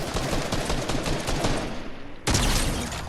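Dense gunfire from the video game Fortnite crackles in rapid bursts, close and loud, forming a continuous barrage with a brief lull before another burst, and no speech.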